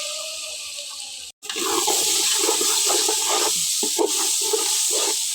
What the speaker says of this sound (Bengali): এখন আমি চালগুলো দিয়ে দিচ্ছি এভাবে ভাজা নেব